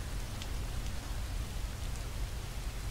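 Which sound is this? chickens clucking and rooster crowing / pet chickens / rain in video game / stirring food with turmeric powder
rain in video game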